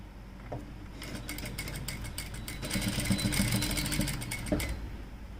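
Sewing machine stitching piping onto a blouse sleeve, a quiet steady mechanical whir with fast needle ticks that grows a little louder midway, heard alone at low level.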